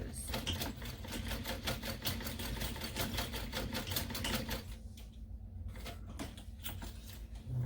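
Sewing machine topstitching a seam on a small backpack with nylon thread, a fast steady mechanical clatter running continuously and close, easing and briefly pausing near the end.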